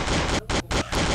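Rapid automatic gunfire in a zombie shooting video game, four loud sustained bursts separated by short gaps, dense and close.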